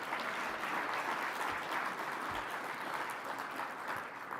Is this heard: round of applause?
yes